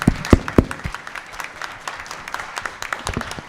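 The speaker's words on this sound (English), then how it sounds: "How about a big round of applause for our moderators, David and Lindsay." Audience at a candidates' forum gives scattered applause for moderators, a few sharp close claps at first, then thinner, lighter clapping trailing off.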